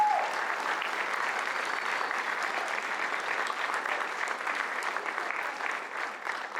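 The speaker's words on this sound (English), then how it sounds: "Let's give them a round of applause." A crowd at a retirement celebration evening applauds the event's sponsors, steady dense clapping from many hands sustained evenly for several seconds in a large room.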